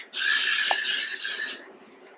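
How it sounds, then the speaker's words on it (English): A single steady hiss of hairspray sprayed onto hair lasts about a second and a half, close and clear, then stops abruptly. "I'm really spraying this more on my hair so it can be held down."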